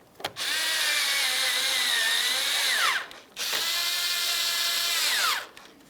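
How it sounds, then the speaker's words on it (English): Two long bursts from a power tool driving 10mm-headed bolts into the grille mounting panel of a 2006-2012 Ford Fusion, a loud, close whine that drops in pitch as each bolt snugs up, with short pauses between. "we'll continue on with our 10mm headed bolts. Go ahead and start them in and snug them up."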